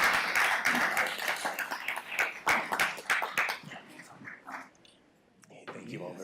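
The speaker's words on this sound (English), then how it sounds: "please give these folks another round of applause" A city council meeting audience breaks into scattered clapping, with voices talking over the applause before it thins out toward the end.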